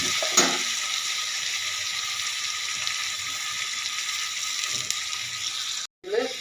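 Spice paste fries in a hot pan, giving a steady, close hiss of sizzling that holds throughout, with a couple of soft stirring knocks and a brief break near the end.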